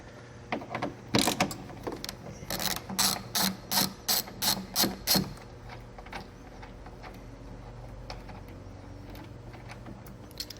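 A ratchet clicks rapidly as it backs out a T45 Torx bolt from the front driver door of a 2004 Volkswagen Passat B5.5, sounding as about eight close, loud bursts of pawl clicking, then quiet shop background.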